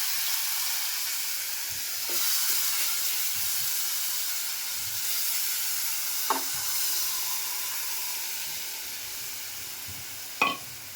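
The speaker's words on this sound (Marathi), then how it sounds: "वाटण झालं आहे आता फोडणीला टाकून घेऊया" Ground spice paste for a fish curry sizzles loudly and steadily in hot oil, with occasional scrapes and taps of a spoon stirring it in the pan.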